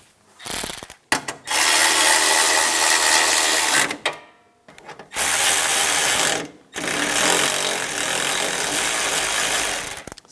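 Bracket bolts on a 2004-2009 Toyota Prius radiator and condenser fan assembly are tightened with a ratchet, giving loud, close, rapid clicking bursts of several seconds each, separated by short pauses.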